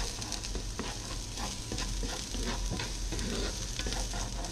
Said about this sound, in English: We're gonna heat these, it's already smelling like onions and garlic.